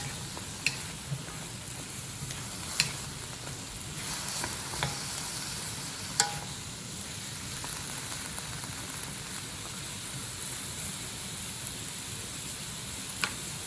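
Broccoli tops stir-fried with dried noodles in a pan on high heat, giving a steady, close sizzle with occasional scraping stirs and light pops throughout.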